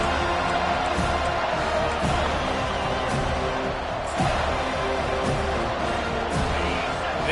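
Steady roar of a college football stadium crowd, loud and continuous with swelling cheers, under a commentator's talk.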